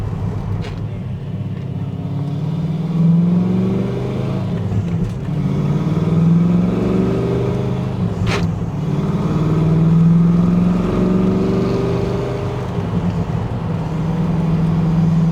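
A 1992 Ford Mustang Fox Body coupe engine runs loud and close, revving up and down in repeated swells as the car accelerates through gears, with a sharp click midway.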